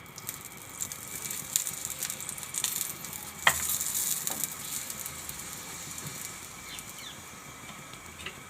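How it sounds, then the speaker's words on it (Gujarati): Lachha paratha roasting with ghee on a griddle, a soft continuous sizzle with scattered crackles and a few scraping turns, close but fairly quiet, one sharper scrape about halfway. "આપણે બે વળ ઘી નાખવાનું, પછી સરસથી બે બાજુ શેડવી લેવાનું"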